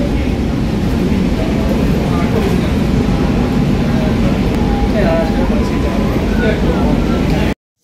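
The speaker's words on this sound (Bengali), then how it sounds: "তো আমরা এখন মেট্রো করে যাচ্ছি রবীন্দ্র সদন।" Inside a moving Kolkata metro train on the Dakshineswar line, a loud, continuous rumble of wheels and carriage fills the space, with faint voices mixed in before the sound cuts off abruptly.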